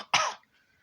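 A single harsh cough burst with a rough throat-clearing edge, close and loud, lasting about a fifth of a second before fading into near silence.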